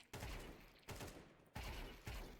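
Rifle fire in Counter-Strike 2 aim practice comes in four quick separate bursts of a few shots each, sharp and close, with short gaps between them.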